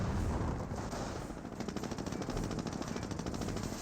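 Dense, continuous battle gunfire from Company of Heroes 1 as German Panzer Elite G43 rifle squads trade shots with US riflemen, with rapid overlapping rifle and machine-gun bursts filling the whole stretch and no voices.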